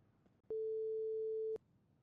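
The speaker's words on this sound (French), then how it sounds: "Attends. que j'appelle Jimmy" A single steady telephone tone sounds while a call is being placed, lasting about a second, clean and fairly loud over a quiet background.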